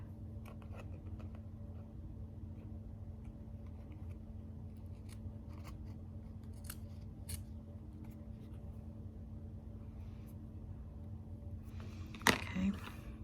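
Scissors trim a paper tag for a Christmas junk journal. A few faint, crisp snips sound over a steady low room hum, followed by a louder clipping sound near the end.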